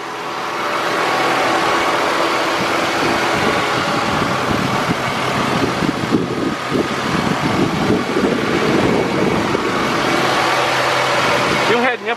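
A car engine idles loudly and steadily up close under an open hood, a constant low rumble, with people talking over it.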